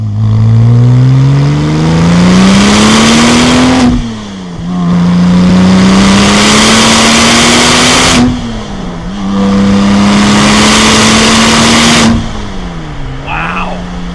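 A Porsche 996 Turbo Cabriolet with a 6-speed manual accelerates hard up a hill. The loud engine rises steadily through three pulls, with short dips at each gear change.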